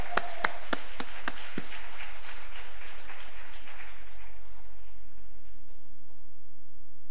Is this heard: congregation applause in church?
yes